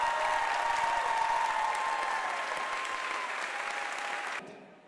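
Audience at a music academy piano recital applauding steadily, a moderate wash of clapping with a faint sustained tone beneath, then cutting off abruptly near the end.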